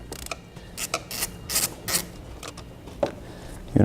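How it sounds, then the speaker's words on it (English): A ratchet with a 12mm socket works the positive terminal nut on the battery of a 2017 Toyota Prius, making quick, close clicking bursts at an uneven pace, with a brief knock at the end. "12mm socket. We're going to remove this nut on the positive side of our battery."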